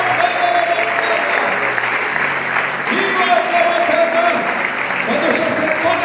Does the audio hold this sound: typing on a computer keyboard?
no